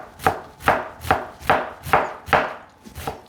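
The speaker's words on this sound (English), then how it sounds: "That's probably about enough onion, cut very fine." A knife chops onion finely on a board in seven evenly spaced, crisp thuds about half a second apart, close and clear with no other sound.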